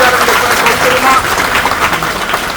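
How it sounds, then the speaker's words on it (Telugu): An audience at a school event claps for MP Vemireddy Prabhakar Reddy, a loud, dense and sustained round of applause from a crowd filling the whole stretch. "మీ అందరి చప్పట్లతో వారి ధన్యవాదాలు"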